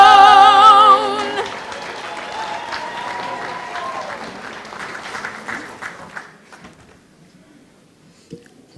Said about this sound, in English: let's give him another round of applause, please.